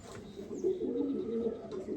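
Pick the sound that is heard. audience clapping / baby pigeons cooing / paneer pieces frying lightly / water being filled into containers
baby pigeons cooing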